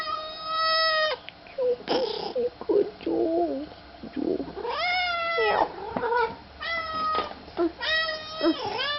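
A cat meows over and over in loud, drawn-out, rising cries as it greets its owner after two weeks apart. Someone talks to it in between the meows, close by.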